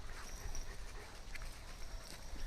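Small dog whimpering, soft and close, with thin whines over low rustling and handling noise, quiet throughout.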